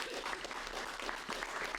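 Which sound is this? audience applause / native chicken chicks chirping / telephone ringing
audience applause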